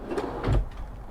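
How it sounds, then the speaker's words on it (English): A cutlery drawer in the kitchen of a Laika Eco VIP H4109 DS motorhome slides open with a soft rumbling thud, close by and brief, with no voices. "cutlery drawer"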